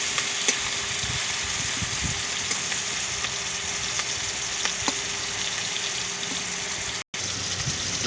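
Prawns rubbed with salt and turmeric sizzle in hot oil, a steady bright hiss with occasional small pops and scrapes, close by and continuous without any voices.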